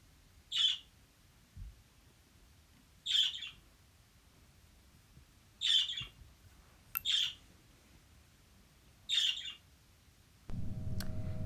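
A pet bird gives five sharp, high squawks at regular intervals of about two to three seconds, clear against a quiet room, with no talking.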